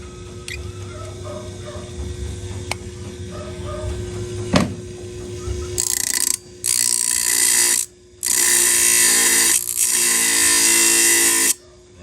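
A power grinder cuts into a workpiece. After some quieter clattering and handling noise, three long, loud, harsh grinding bursts follow with brief pauses between them, close to the microphone and with no voices.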